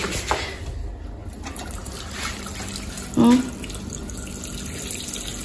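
Water runs steadily from a tap into a basin, a continuous hiss with a brief splashy surge near the end.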